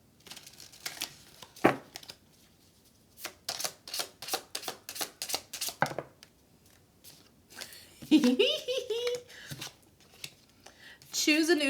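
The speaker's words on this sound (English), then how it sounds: "Last shuffle, and then I'll get your answer." Tarot cards are shuffled up close in a series of quick, regular riffling taps, with a voice speaking briefly toward the end.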